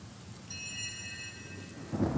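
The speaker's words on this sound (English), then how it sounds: "it's raining in here, it's gonna be fine." Rain pours steadily with rolling thunder in the fantasy role-playing game Divinity: Original Sin, with a thin chime-like tone partway through and a louder rumble of thunder swelling at the end.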